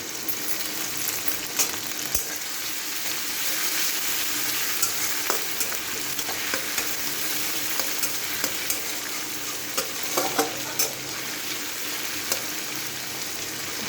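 Crushed garlic and ginger fry in a pan for an egg tarka, giving a steady close sizzle that runs throughout, with occasional small clicks and stirring knocks and no talking.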